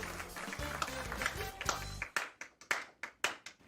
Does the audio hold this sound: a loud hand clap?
yes